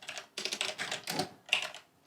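Clicky keystrokes on a computer keyboard come in several quick bursts with a short pause between them, close and fairly quiet, with no voice.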